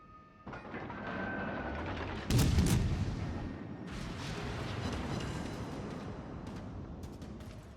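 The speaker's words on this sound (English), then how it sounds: "Just dodge the salvo there" A naval gun salvo in World of Warships opens with a rumbling roar, swells into a heavy blast, then rolls on as sustained thunder at moderate distance.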